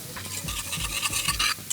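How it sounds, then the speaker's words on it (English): Crackling, hissing sizzle of steak frying in a hot pan, with a few soft scraping stirs, close and moderately loud. "steak can go in. Oh yeah, listen to that sizzle"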